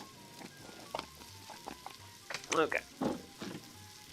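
A pot of creamy potato soup stirred over a campfire outdoors, soft scattered scrapes and light sizzling, quiet and close, with a brief word spoken partway through.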